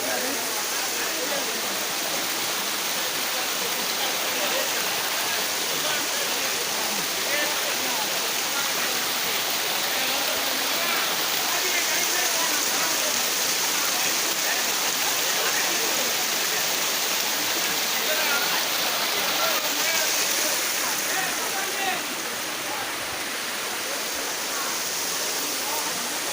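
A waterfall roars as a steady, unbroken rush of falling water, loud and close, holding an even hiss for the whole stretch with no other sounds standing out.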